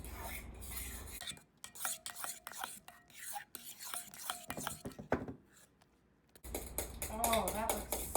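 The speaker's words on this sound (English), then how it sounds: "And then we're going to give that a nice stir." A spoon clinks and scrapes through a mascarpone mixture in a bowl for gluten-free tiramisu, soft rhythmic taps near at hand, partly under a speaking voice.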